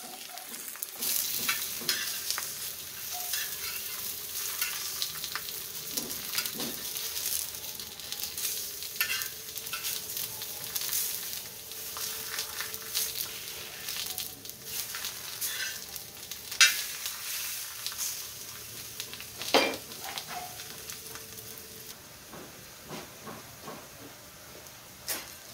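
Banana slices fry in a hot pan with cinnamon and sugar, giving a steady close sizzle with occasional stirring scrapes and brief clatters throughout, and no talking.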